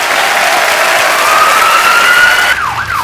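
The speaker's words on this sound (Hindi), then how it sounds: "जोरदार तालियां हो जाए एक बार।" A studio audience on The Kapil Sharma Show comedy program claps loudly and continuously, while a rising, siren-like tonal sound effect sweeps over the applause and then bends sharply near the end.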